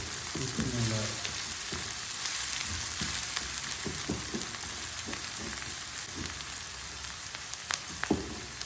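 Vegetables with onion and egg frying in a pan over a low flame, a dense close sizzle with repeated spatula scrapes and stirs throughout, no voice.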